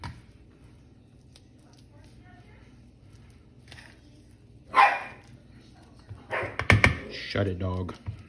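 A dog barks in a home kitchen while mangu is being mashed: one sharp bark, then a short burst of several louder barks near the end, with faint background noise before.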